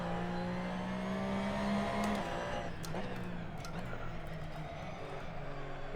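Race car engine from Assetto Corsa gameplay, a droning tone that rises and falls as the car accelerates and brakes, with a higher rev burst and clicks in the middle, steady and fairly quiet throughout.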